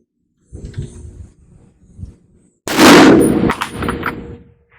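An M1 Garand rifle fires a single loud, sharp shot with a long rolling echo on an outdoor range, after a few faint thumps and rumbles, and a fainter crack follows in the tail.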